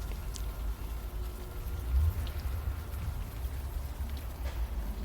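Steady soft rainfall in the video game Unavowed, a continuous faint hiss with no distinct drops standing out, running alone without voices.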